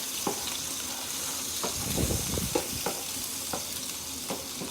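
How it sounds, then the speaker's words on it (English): Pork chop pieces are stirred in hot fat, giving a continuous dense sizzle with rhythmic spoon scrapes and clacks against the pan, close and clear with no voices. "I'll grab my spoon and throw those right back in that fat. Get those stirred up."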